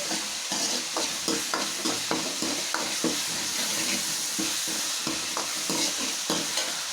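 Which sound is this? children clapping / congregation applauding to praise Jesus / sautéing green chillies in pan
sautéing green chillies in pan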